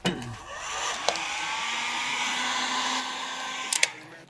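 A heat gun shrinks vinyl wrap on a yacht hull, producing a loud, steady blowing roar close by that runs for several seconds, with a few clicks and knocks at the start and near the end.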